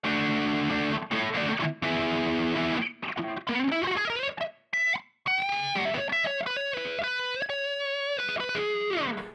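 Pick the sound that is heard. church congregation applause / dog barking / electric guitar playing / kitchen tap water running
electric guitar playing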